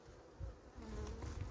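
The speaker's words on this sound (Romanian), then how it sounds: "Ăsta are mai multă albină." Close, continuous buzzing of honeybees in a populous hive nucleus being prepared for winter, swelling and fading slightly, with no talking.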